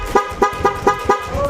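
A Bosch motorcycle horn honks in five quick, evenly spaced blasts, loud and close, with a shorter tone trailing at the end.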